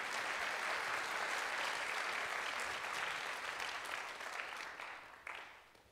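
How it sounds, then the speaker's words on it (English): A concert audience applauds for a group of tango dancers, a broad, steady wash of clapping heard at a distance, continuous for several seconds and then tapering off toward the end. "Yeah, you can clap for them."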